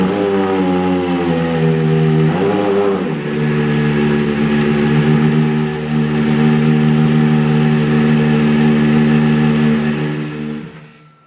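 The engine of a Gordon Murray Automotive Type 50 road car holds a loud, high-pitched rev for several seconds, briefly dips and climbs again, then fades out at the end.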